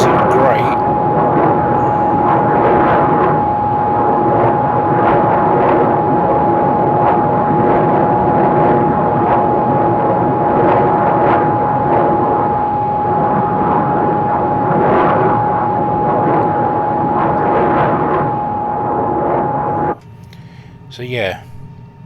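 De Havilland Goblin jet engine of a DH.100 Vampire idling, heard from outside in Microsoft Flight Simulator, a loud continuous roar with a steady whining tone that cuts off abruptly near the end.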